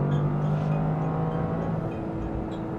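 A Toyota GR Corolla's engine hums at a steady pitch while driving, a moderate, close cabin drone that drops slightly partway through as the revs ease off.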